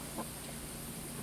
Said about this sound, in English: we're watching hens fight